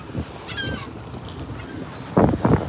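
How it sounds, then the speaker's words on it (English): Seabirds calling loudly near a shark research boat at sea, a few honking cries rising over steady wind noise and low rumble, the strongest calls bunched near the end. "Birds going crazy."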